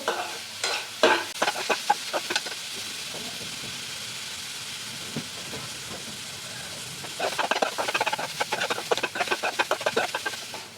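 Carrots frying in a pan, sizzling softly while a spoon scrapes and stirs in bursts of clattering strokes, with a quieter stretch of gentle frying between them.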